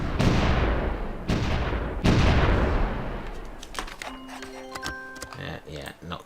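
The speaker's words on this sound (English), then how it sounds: "My apologies in advance if the artillery barrage at the opening of this war distresses anyone's ears" Artillery barrage opening a war in the strategy game Supreme Ruler Ultimate: three heavy booming blasts in quick succession, each with a long rumbling decay, followed by a cluster of sharper, lighter explosion and impact sounds.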